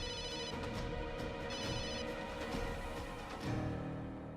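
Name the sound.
phone ringing unanswered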